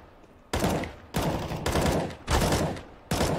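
Counter-Strike gunfire from an AK-47, loud broadband bursts in four long sustained volleys separated by brief pauses, close and dominant with no talk.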